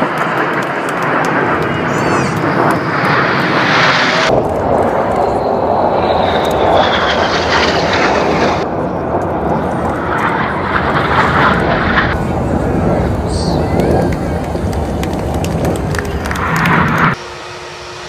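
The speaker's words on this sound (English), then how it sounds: "it was a complete fluke that I saw these Red Arrow planes landing" Red Arrows jets landing at Edinburgh Airport, a loud continuous roar of jet engines that swells and shifts in sections, with faint background voices.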